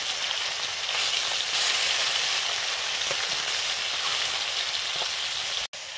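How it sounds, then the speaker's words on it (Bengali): Koi fish fries in a pan with tomato and kohlrabi, giving a continuous, even sizzle and crackle close by that cuts out briefly near the end. "আজকে ভাজা করছি"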